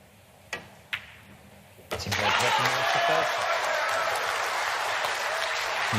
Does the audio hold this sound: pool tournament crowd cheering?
yes